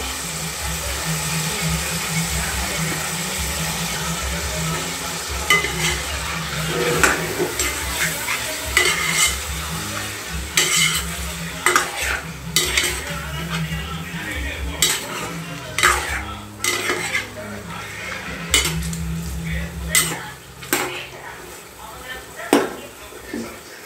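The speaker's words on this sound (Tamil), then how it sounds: "சிக்கன் வதக்குது." Village-style chicken sautéing in a pan with turmeric, a steady sizzle under repeated metal spoon scrapes and clanks against the pot, close and fairly loud, with a voice speaking intermittently.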